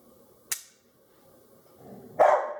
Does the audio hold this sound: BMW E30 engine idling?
no